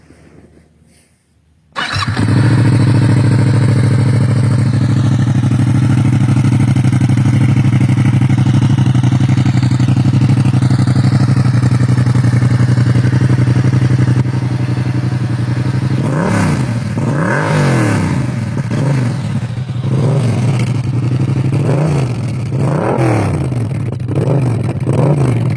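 A Yamaha MT-07 motorcycle with its exhaust still baffled starts and idles loudly and close, a deep steady rumble, then is revved repeatedly in rising and falling blips.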